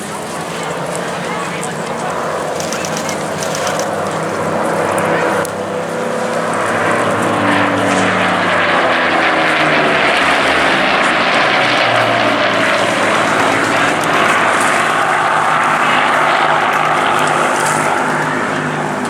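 A Spitfire propeller fighter flies past, its engine note swelling to a loud, rich drone with harmonic sweeps that peaks and carries on; a commentator's voice runs over it.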